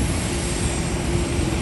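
Airplane departing at Haneda Airport, heard as a loud, steady broadband jet roar that fills the whole moment with no voices.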